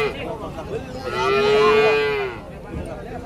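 A black cow moos once in a long, loud, drawn-out call while cattle are unloaded from a truck in Situbondo, with people talking nearby before and after.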